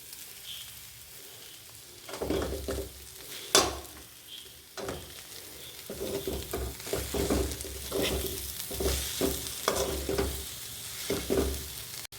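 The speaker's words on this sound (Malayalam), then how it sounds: "ഈ സമയം നമുക്ക് നമ്മൾ അരിഞ്ഞു വെച്ചിട്ടുള്ള ചെറുതനം നമുക്ക് കുറച്ചായിട്ട് ഇതിലേക്കിട്ട് ഇളക്കിയെടുക്കാം." Chopped chorithanam (nettle) leaves are stirred into sautéed coconut in a pan. A soft, steady sizzle runs beneath repeated nearby scrapes and clatters of the spoon against the pan, coming in uneven bursts with no talking.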